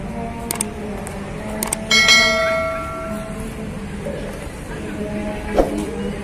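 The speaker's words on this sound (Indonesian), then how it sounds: "Bel pulang sekolah." A bell rings inside a veterans' headquarters building, its metallic tone blooming loud and then fading into a long ringing decay, with a few fainter strikes before and after and people talking nearby.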